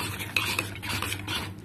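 Chhanar kaliya with cashews and raisins being stirred in a pan, a short burst of spoon scraping and clinking against metal over a soft background hum, fairly close and alone.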